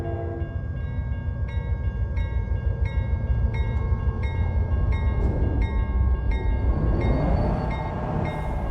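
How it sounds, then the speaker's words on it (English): A train heard from a truck on the road rumbles heavily close by, with regular clicking rail-joint beats and a sustained horn tone toward the end. "The train even stopped."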